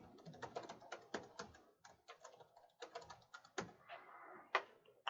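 A password entered on a computer keyboard: a quick run of soft, close keystrokes in uneven bursts with short pauses, with no voices.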